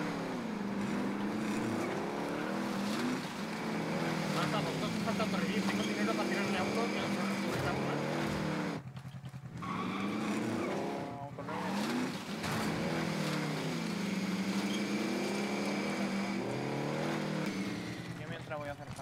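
A car engine drones steadily and loudly through a match of the Warzone battle royale video game, with tire noise at times and a player talking over it throughout.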